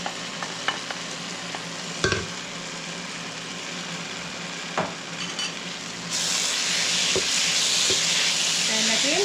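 Chopped fenugreek leaves sizzling in masala with green chilies for methi murg, with occasional spoon scrapes and clanks against the pan, then a louder, steady frying hiss in the latter half.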